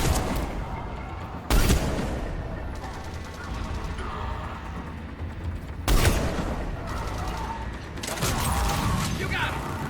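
Gunfire in the video game Mass Effect 3 Legendary Edition on Insanity difficulty: two loud, sharp gun blasts several seconds apart over a constant layer of mechanical rattling and combat noise, with a few further bursts toward the end.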